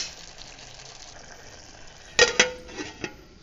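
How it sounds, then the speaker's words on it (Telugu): A spoon stirs mutton keema curry in a pan after salt goes in: a soft scraping sizzle, then a few sharp metallic clinks against the pan near the end. "సాల్ట్ వేసుకొని మళ్ళీ ఒకసారి కలిపేసుకుంటున్నాను"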